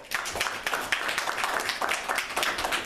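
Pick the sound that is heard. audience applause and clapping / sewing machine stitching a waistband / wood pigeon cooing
audience applause and clapping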